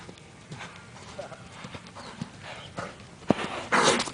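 Hooves of the horse Buckshot clip-clop in a steady trot on the ground, faint and somewhat distant, with rustling noise and a louder burst near the end.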